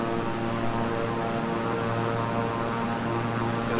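A King Air 350i twin-engine plane in Microsoft Flight Simulator drones with a steady, loud propeller hum and layered engine tones, continuous and unchanging throughout.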